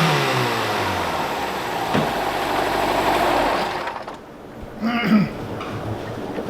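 A Honda S600 coupe engine revs hard toward 9,000 RPM in a loud, rising whine, then drops away to a quieter idle before a short blip of revs returns near the end.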